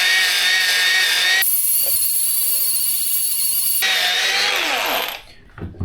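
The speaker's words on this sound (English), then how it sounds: "I got a Scotch-Brite pad mounted to my angle grinder, RPM controlled, and I'm gonna go lightly over this to shine it all up." An RPM-controlled angle grinder fitted with a Scotch-Brite pad runs lightly over a Ford Powerstroke engine part to shine it. It makes a steady high whine that changes pitch as it is pressed on, then spins down near the end.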